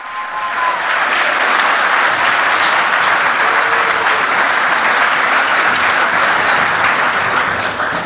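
A church congregation applauds during a sermon with steady, loud, dense clapping that fills the whole stretch without a break. No one speaks over it.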